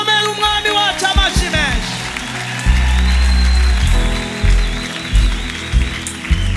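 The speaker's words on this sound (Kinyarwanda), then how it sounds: "dukomere umwami wacu amashyi menshi" A church congregation bursts into sustained applause after a call to cheer, with a hymn-like melody and crowd voices mixing in, loud and full from start to finish.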